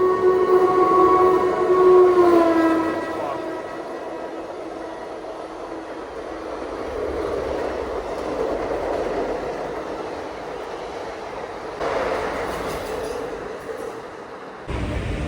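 A train horn blares, then a fast train roars steadily past at close range through a station in Mumbai, its rushing rumble lasting several seconds before fading.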